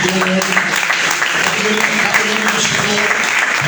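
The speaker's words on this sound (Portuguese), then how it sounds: "Palmas para Jesus bem forte." Loud, continuous applause from a church congregation at a Pentecostal service, dense clapping with voices mixed in throughout.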